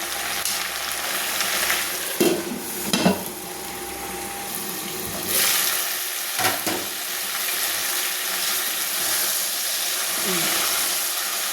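Mixed vegetables sizzle and fry in a pan for a vegetable curry, a loud, continuous hiss broken by a few stirring knocks and scrapes.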